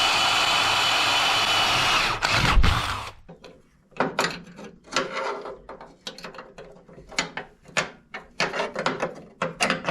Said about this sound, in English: I think I'll be able to drill the hole and run a bolt through there